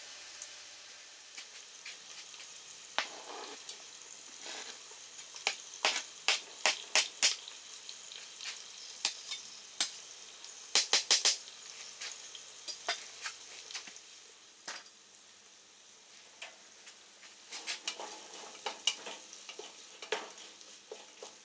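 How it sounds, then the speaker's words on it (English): Chopped onions and garlic sweating in a pot, a soft steady sizzle with frequent sharp crackles and light stirring clicks, close and fairly quiet with no talking. "I'm going to just let that sweat down some, and then we'll start assembling it once the onions and garlic are ready."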